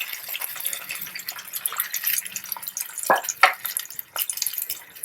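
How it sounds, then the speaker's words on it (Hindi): Water is poured into semolina and vegetables while making upma, splashing and trickling in uneven bursts. A couple of louder splashes land midway through, and no one speaks. "2 कटोरी से थोड़ा ज़्यादा पानी डाल देंगे, क्योंकि सब्जियां थोड़ा अच्छी तरह बॉईल हो जाए"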